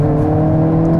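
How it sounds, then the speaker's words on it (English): 2022 Hyundai Kona N accelerating, a loud, steady engine drone with a strong low exhaust tone and a whirring turbo heard from inside the car during a short, continuous pull. "now let's go ahead and try to hear that exhaust a little bit, the pops,"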